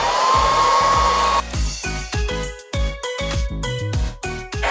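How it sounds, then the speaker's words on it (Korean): A hair dryer blows steadily and loudly close by, heating adhesive sheet film on a kitchen sink cabinet, its airflow droning on while soft music plays underneath. "드라이기로 여기 시트지 뜯을 면에 열을 좀 가해주면 좀 더 쉽게 뜯어져요"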